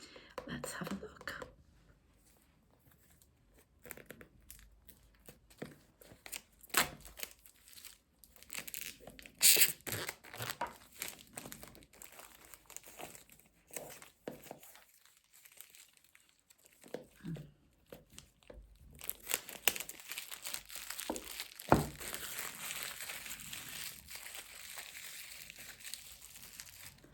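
Oracle card packaging is torn and peeled open up close, with crinkly plastic wrap and crackling, tearing sounds in irregular bursts, a few quiet pauses, and louder sustained crinkling toward the end.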